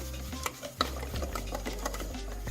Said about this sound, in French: Nous allons touiller